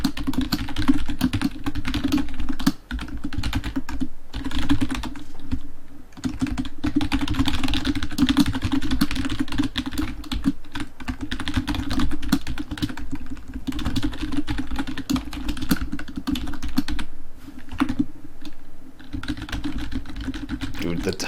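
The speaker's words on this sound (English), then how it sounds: "typing is so loud on my mic." Steady rapid clatter of typing on a computer keyboard, close and loud, continuing throughout with only brief pauses and a low hum underneath.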